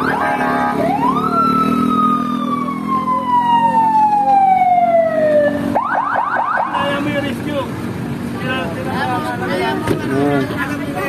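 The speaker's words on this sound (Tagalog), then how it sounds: "Kaya dumating na yung ambulansya" An ambulance siren at a car accident scene sweeps down in a long wail, then yelps rapidly, loud and close, with people talking beneath it.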